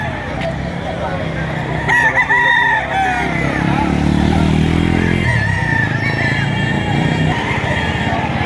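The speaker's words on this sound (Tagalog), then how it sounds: "Napakaraming manok." Several roosters crow over a dense, continuous din of clucking chickens at a crowded poultry market in Lipa, with a few other crows overlapping in a busy space.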